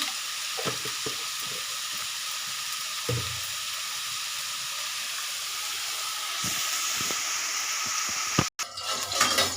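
Beetroot and carrot fry with salt in a pan, giving a steady sizzling hiss with occasional stirring scrapes and clatters. The sizzle grows louder near the end, after a brief cut, and no one speaks.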